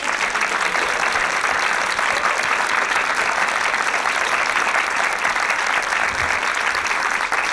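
Sustained audience applause fills the room at a Hungarian film discussion event, dense and steady clapping from a crowd throughout, with no voices over it.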